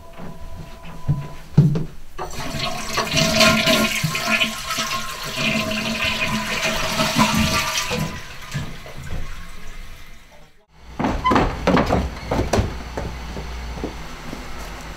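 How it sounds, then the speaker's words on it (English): A low-flow toilet on an upper floor flushes with a loud rushing gush of water lasting several seconds, then a brief pause before the tank refills with a steady hiss and trickle. "we have a second toilet on the second floor and it's also supposed to be a low flow toilet, but now I'm wondering if it flushes this much"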